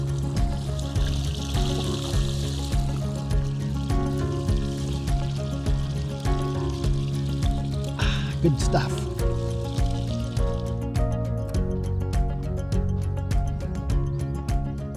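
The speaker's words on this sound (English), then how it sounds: "Nice little spring right here. Not often that the trail crosses springs." Small spring water trickling and pouring across a hiking trail on the Bonneville Shoreline Trail in North Ogden, a steady close liquid flow with someone speaking briefly over it.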